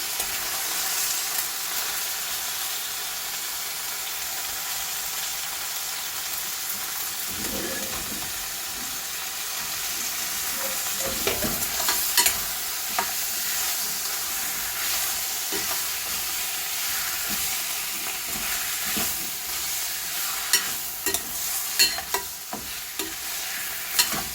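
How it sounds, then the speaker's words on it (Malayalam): Steady sizzling of mutton masala in a pan, with a spoon stirring and scraping through the thick masala, soft clinks and bubbling continuing throughout without talk. "ഇനി ഇത് നന്നായി ഇളക്കി ചേർക്കാം."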